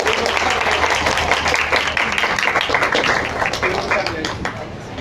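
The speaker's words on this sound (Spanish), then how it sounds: "Damos la bienvenida a Atsushi Kaneko con un fuerte aplauso." Strong audience applause welcoming the manga artist Atsushi Kaneko to a talk event, dense, steady clapping from a full room. The applause stays loud and fades slightly toward the end, with faint voices underneath.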